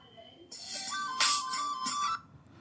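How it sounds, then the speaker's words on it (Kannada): A phone ringtone plays from a ringtone download website: a bright electronic melody of sustained, shifting tones starts suddenly, swells, then cuts off cleanly, with nothing else heard. "ಇಲ್ಲಿ ನೀವು ಯಾವುದೋ ಒಂದು ರಿಂಗ್ ಟೂನ್ ಪ್ಲೇ ಮಾಡಿ ತೋರಿಸಿ ನೋಡ್ತಿರ್ಬೋದು"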